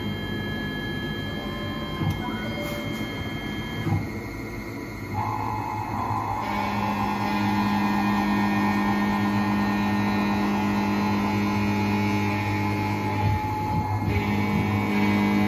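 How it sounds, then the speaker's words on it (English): A CNC mill runs a canned facing program with coolant: a steady, moderate mechanical hum with a sustained tone that shifts pitch partway through. "Gonna run a canned facing program with coolant,"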